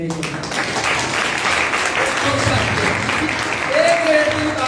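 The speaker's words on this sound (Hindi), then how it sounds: "तालियां बजा दो।" A church congregation applauds in a steady, broad wash of clapping, while a preacher's voice carries on over it.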